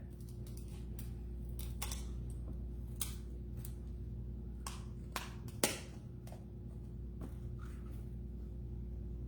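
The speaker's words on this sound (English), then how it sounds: "So take a pair of scissors, and you're like, why?" A pair of scissors trims around a glued craft piece: a scattered series of sharp, crisp snips over a steady low background hum, with no talking.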